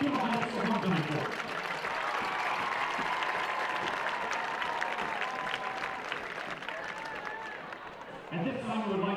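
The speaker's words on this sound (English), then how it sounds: "Please give a round of applause for our 2014 Dacula High School homecoming court." A large crowd applauds steadily at a high school homecoming court presentation during a football game, a dense sustained roar of clapping and cheering that swells at the start, thins briefly, then rises again near the end.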